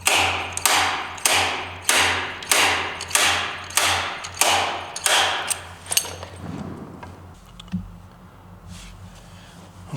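A slide hammer yanks a seized bolt on an early Harley-Davidson Ironhead XLCH 900 during a bolt-on hardtail install. Nine heavy metallic strikes fall in a steady rhythm, close and loud, before fading into softer clanks and shop noise.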